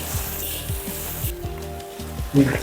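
Shredded cabbage hitting a hot pan for chicken noodles sizzles steadily under a fairly quiet hiss, with a few soft clinks and a brief louder clatter near the end.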